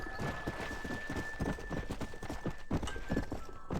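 Horse hooves gallop in fast, steady clip-clop beats in Red Dead Redemption, loud and close over a busy game soundscape with a sustained tone, no talk.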